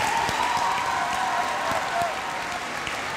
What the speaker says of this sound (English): A round of applause for your teachers and the White Oak staff.